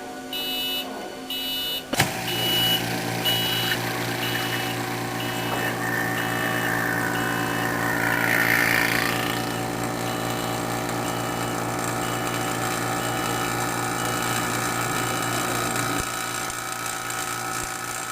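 A vacuum pump on an environmental chamber drones steadily throughout, with a constant motor hum and a brief click and beeps near the start.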